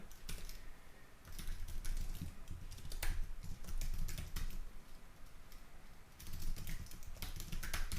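Steady typing on a computer keyboard, with close, crisp key clicks that come in uneven bursts and occasional louder taps, and no talking over it.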